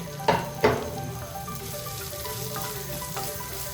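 Chopped onions hit hot oil in a pan with ginger and garlic, giving two sharp stir clatters near the start and then a steady soft sizzle with light scraping.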